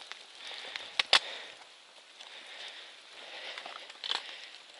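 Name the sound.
rain falling on a mountain trail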